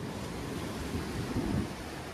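Sea waves wash onto the shore at Swanage in a continuous low rumbling surf, blended with steady wind buffeting the microphone, with no voices.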